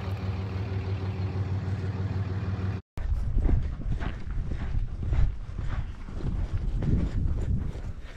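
Horses at a ranch walk about and eat breakfast together, with soft hoof clip-clops and steady shuffling near the microphone over a constant background hum, broken by a brief cut.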